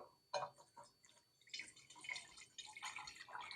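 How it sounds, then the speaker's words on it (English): Water kefir soda is poured into a bottle in short trickling, splashing bursts, quiet and close. "so you can watch me pour this in"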